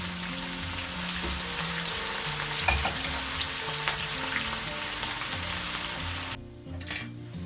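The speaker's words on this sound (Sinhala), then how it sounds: "ලුණු ටික මෙන්න මේ ගානට බැදුනට පස්සේ මම තෙලෙන් අයින් කරගන්නවා" Thinly sliced onion frying in oil in a pan after cashews, for ghee rice with cashew and carrot, with a steady loud sizzle and occasional stirring clinks, the sizzle briefly dropping away near the end.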